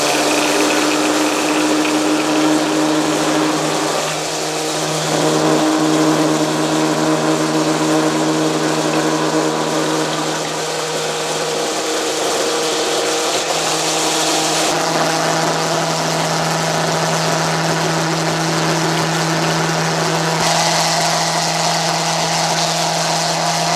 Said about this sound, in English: So this is a oil transfer pump.